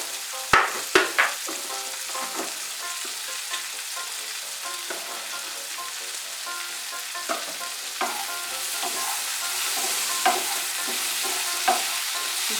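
Sugar being stirred into a frying pan while cooking Bengali onion stalks (peyajkoli bhaja), a continuous oily sizzle with repeated scraping strokes of a spoon against the pan, close and fairly loud.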